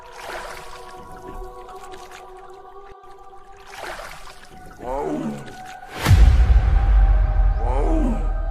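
Cartoon tiger roar from a tiger arriving by boat in the forest, a loud rumbling roar bursting in midway and sustained to the end, preceded by faint growling calls over a background music bed.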